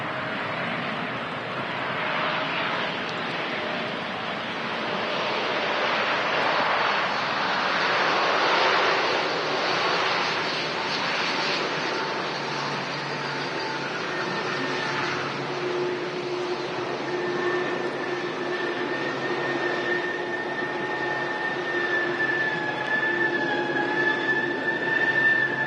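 An Atlas Air Boeing 747 rolls out after landing at Manchester Airport, a long, steady roar of engines and reverse thrust from a distance, with faint whining tones rising toward the end.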